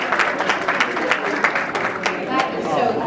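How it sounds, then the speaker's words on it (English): Audience at an Ethiopian professionals event in Atlanta applauding, with moderate clapping throughout and scattered sharper claps, somewhat distant with some voices mixed in. "Please give her another round of applause."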